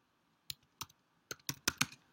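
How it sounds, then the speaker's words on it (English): Keys on a computer keyboard tapped while a Java program name is entered, six or seven crisp separate clicks in an uneven rhythm, close and quiet against a faint background hum. "I need to type in chaining.java."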